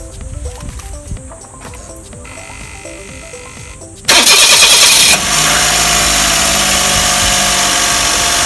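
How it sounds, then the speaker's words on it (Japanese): A car engine cranks and catches, a harsh starter burst giving way to a steady loud idle, during checks for an abnormal noise from a loose air conditioner belt and magnetic clutch, after a stretch of rhythmic croaking and rattling. "一回エンジンかけてみます。"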